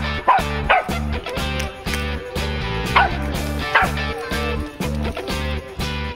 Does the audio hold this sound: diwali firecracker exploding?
no